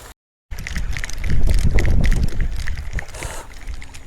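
Wind gusts across the microphone at a riverside fishing spot, a loud rumbling buffeting that swells and eases, with faint background activity and no clear talk.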